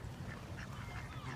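Ducks quacking at a city park, a few quiet calls scattered over steady low background rumble, with no talk.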